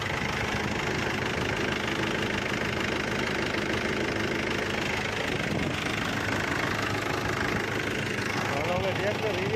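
A tractor engine idles in a farm field, a steady low rumble with a faint knocking pulse that runs the whole time while people talk over it.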